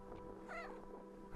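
A cat in the visual novel game Mayak gives a single short meow over a steady, soft musical hum.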